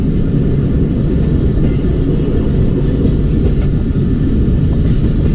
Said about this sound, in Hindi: चमन पैसेंजर जो है वो डिपार्ट कर रही है गुलिस्तान रेलवे स्टेशन से